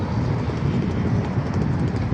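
Blustery wind rumbles against the microphone in a steady, buffeting roar with no voices.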